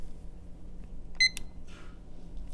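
A digital timer gives a short, bright double beep as a button is pressed, alone in a quiet room with faint background hum.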